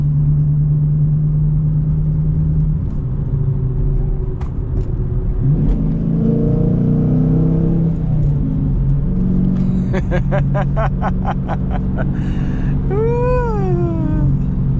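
A Hemi-powered Dodge Challenger R/T with a six-speed manual rumbles loudly, its engine note rising and falling through revs, while chirping, meow-like squeals and a voice sound briefly over the steady drone.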